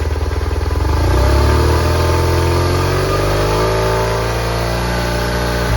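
A hot BMW R1100 RT motorcycle engine revs loudly up close to about 3,000-4,000 RPM, climbing in pitch and then holding a steady high rev.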